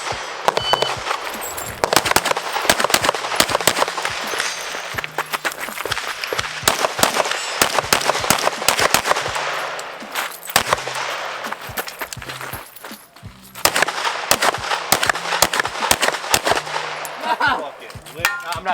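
Rapid pistol shots from a USPSA competition stage, fired in quick bursts of sharp cracks with short pauses between strings, loud and close, with brief voices in between.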